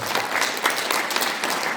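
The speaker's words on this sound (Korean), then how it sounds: "훌륭한 강의를 해주신 전학진 영수전 교수부장님께 다시 한번 큰 박수 부탁드리겠습니다." A lecture audience applauds loudly and continuously, dense clapping filling the whole stretch without any talking.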